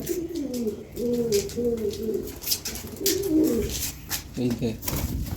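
Desi pigeons cooing in a loft, a run of low throaty coos in repeated bursts, fairly close, with a voice calling out intermittently over them.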